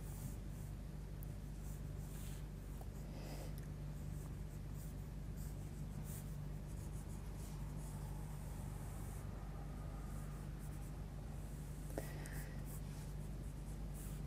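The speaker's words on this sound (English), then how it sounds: "we'll just quickly draw in the rough shape of a pepper" Coloured pencil sketching the rough shape of a pepper on a black sketch pad, a soft continuous scratchy scraping of the lead across paper, close and steady over a low background hum.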